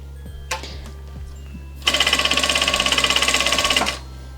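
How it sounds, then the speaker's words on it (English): A Vevor industrial sewing machine stitches stretchy fabric in one rapid, even burst of about two seconds, its needle clattering rhythmically after a few faint handling clicks. "So I'm also pulling the fabric as I sew."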